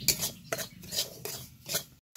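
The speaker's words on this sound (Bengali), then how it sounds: "সুজিটা একটু ঘিয়ের সঙ্গে ভালো করে ভেজে নিব।" Semolina roasting in hot ghee, stirred with a metal spoon against a pan in quick irregular scrapes and clinks, close and alone, ending in a brief silence.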